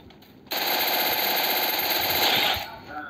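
An MP40 submachine gun firing in a video game, one loud continuous burst of rapid rattling shots lasting about two seconds before cutting off.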